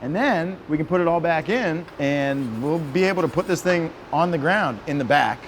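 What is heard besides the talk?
None of the usual background noises is heard.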